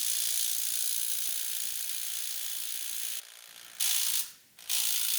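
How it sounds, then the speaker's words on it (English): Compact cordless impact wrench struggling against a locking wheel nut, hammering in a continuous loud rattle that breaks off in two short pauses before starting again. "you can see that it's struggling with the wheel nut with the lock on it"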